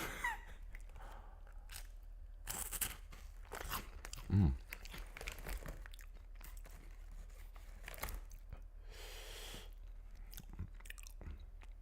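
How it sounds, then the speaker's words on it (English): Someone chews crunchy, spicy food up close, producing irregular crisp crunches and bites over about twelve seconds, with one louder crunch partway through and faint background noise. "Listen to the crunch."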